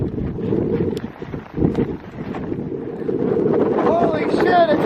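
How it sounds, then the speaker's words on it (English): Strong wind roars across the microphone on the Arizona Trail, a loud, gusting rumble that surges and dips, with a voice briefly heard over it. "it's windy up there!"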